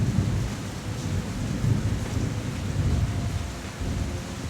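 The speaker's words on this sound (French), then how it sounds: "Je sais pas si vous entendez le tonnerre." Heavy rain pours steadily in a Bali jungle at night, with thunder rumbling low and continuous beneath the dense downpour, loud and close throughout with no voices.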